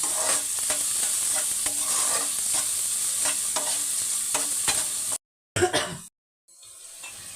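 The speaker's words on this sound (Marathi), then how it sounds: "कांदा थोडासा सोनेरी रंगापर्यंत मी परतून घेते" Onion sizzles steadily in a hot pan as it is sautéed to golden for lasuni methi, with a spatula scraping and stirring in a regular rhythm, close and clear, broken by two brief silent gaps near the end.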